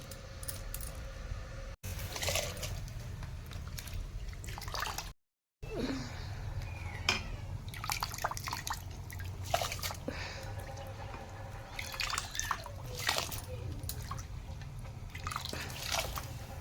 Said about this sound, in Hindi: चावल में हम पानी डाल लिए हैं,